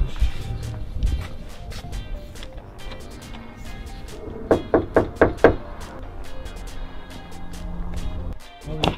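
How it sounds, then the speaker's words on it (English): Knocking on a door in repeated sharp raps, scattered at first, then a quick loud burst of about six knocks, close by with faint background noise. "I was like knocking on all kinds of doors on the other side"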